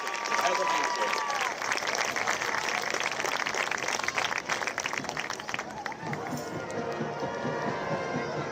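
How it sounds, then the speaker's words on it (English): A stadium crowd at a varsity high school football game applauds the dance and cheer team with steady, dense clapping and cheering that lingers for several seconds before tapering slightly, while an announcer talks over it. "Fans, how about a big hand for all of these ladies for their hard work in the dance and cheer here at Bondurant Farrar."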